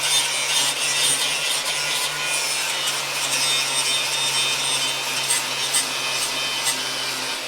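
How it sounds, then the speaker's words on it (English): A power tool grinds and scrubs rust scale off a steel car frame rail on a crew cab Charger under restoration, a loud, continuous abrasive rasp with a steady motor hum close by and no speech. "So we might as well just clean off all the scale while we're here."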